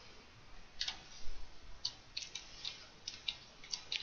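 Light, irregular clicks of typing on a keyboard, soft and close, with short pauses between bursts of keystrokes.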